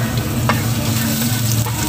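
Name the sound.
garlic sautéing in hot oil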